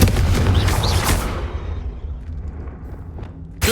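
A loud, booming blast from the Confringo fire spell in Hogwarts Legacy hits right at the start, with a heavy low rumble that fades over a second or so. A second sharp burst cuts in at the very end.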